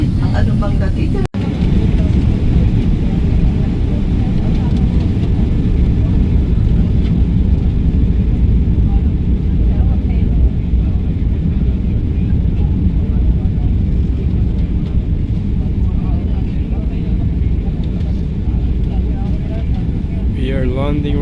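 Steady broadband roar of an airplane cabin during landing approach, a loud constant engine and airflow rumble filling the whole stretch with little change, apart from a brief click near the start.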